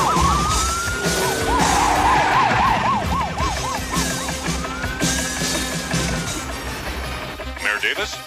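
Cartoon police car sirens wail in rising and falling sweeps through the scene, loud and continuous, layered with background music and effects while voices talk over them.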